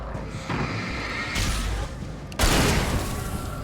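Gunfire in the video game Alan Wake: a dense, loud, continuous volley of shots that swells sharply partway through and keeps roaring to the end.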